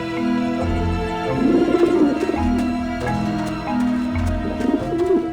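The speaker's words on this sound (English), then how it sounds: "the pigeons obviously like this dish vent" Pigeons coo steadily on a rooftop dish vent in the adventure game Grim Fandango, low rolling coos repeating in a looping rhythm over soft background music.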